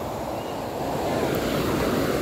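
Clear river water flows steadily in a continuous, even rush, close and fairly loud with no pauses, heard alone without talk.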